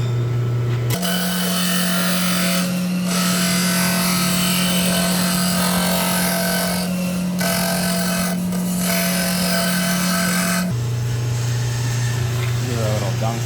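A disc sander shapes a wooden part for a Pro Spec model truck. The machine sends out a loud, steady whir and rasp that runs for several seconds, with brief dips as the wood is pressed to the disc.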